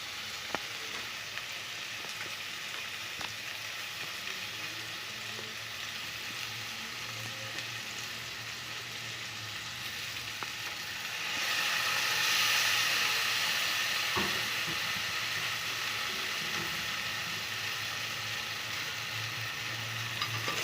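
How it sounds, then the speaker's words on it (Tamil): Tamarind sauce for crab curry boils with steady sizzling and bubbling in a pan, growing a little louder partway through, with faint clinks of a utensil and no talking. "பழப்புளி நல்லா கொதிக்கட்டும்."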